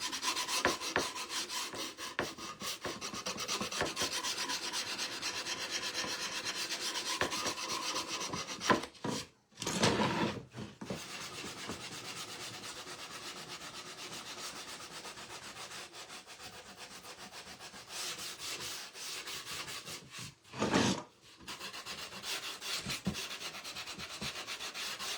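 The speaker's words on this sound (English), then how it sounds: "we're going to kind of sand it down to where the wood is actually showing." Sandpaper rubs steadily over blue-painted wood, taking a wooden beehive wall hanging down to bare wood. The rasping strokes are close and continuous, broken by two brief pauses, with no talking.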